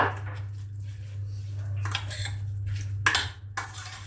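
Coleslaw filling with spring onion is mixed in a bowl, giving a few clinks and soft utensil scrapes over a steady low hum.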